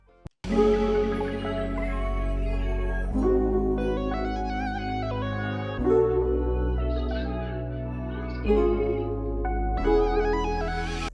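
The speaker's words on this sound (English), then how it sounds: "we added this bass from my Champions Analog Lab Bank" R&B bass preset from an Analog Lab synth bank with EQ and saturation, playing a slow line of deep sustained notes that change every few seconds, clean and steady with no voices.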